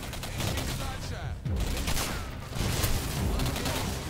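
Continuous gunfire from the video game Singularity on Xbox 360, a dense, loud run of overlapping shots and bursts that goes on for the whole stretch, with no talk over it.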